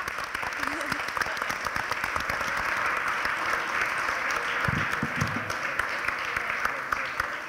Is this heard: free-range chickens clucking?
no